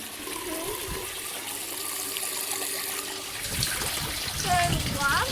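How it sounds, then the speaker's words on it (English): Water flows steadily out of a pipe on an aquaponics system, where fish waste is pumped through to feed plants, a continuous nearby splashing with light voices over it and a brighter gurgle toward the end. "See the water coming out?"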